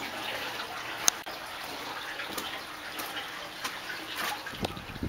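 Steady broadband rush of river water flowing along a riverside near an old railroad bed, continuous and moderately close, with a few faint clicks and bumps on top.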